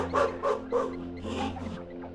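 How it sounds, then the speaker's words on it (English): A pack of African wild dogs squeaks and whines during an intense greeting ritual, with three quick high-pitched yelps followed by a longer, rougher whine over a steady low background hum. "Rubbing against each other and emitting high-pitched squeaks to channel energy and bolster the fighting spirit of the whole pack."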